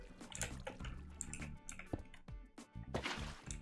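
Flowing water in a blocky Minecraft-style game sounds as faint, quiet splashy trickles and drips. They come in uneven bursts, with brief clicks scattered between them.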